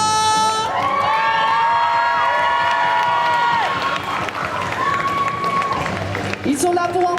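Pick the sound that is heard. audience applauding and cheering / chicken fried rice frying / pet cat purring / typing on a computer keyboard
audience applauding and cheering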